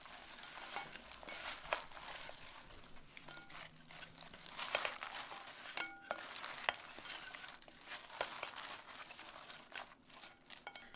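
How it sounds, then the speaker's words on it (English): Quiet, close mixing of potato salad with cabbage and French fries: soft wet squelches, crinkly rustles and occasional light clinks of a utensil against a bowl, in irregular bursts without voices. "Start mixing your salad."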